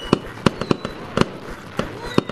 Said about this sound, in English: Hard to get fireworks.